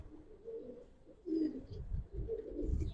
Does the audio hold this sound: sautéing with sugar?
no